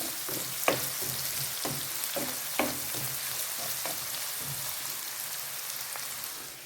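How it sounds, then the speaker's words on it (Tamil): Onions and chillies sizzle in a hot pan for a prawn and potato white curry, a steady frying hiss broken by a few sharp clinks and scrapes of stirring. "2யும் வந்து நல்லா கலந்து வதக்கி விடுவோம்."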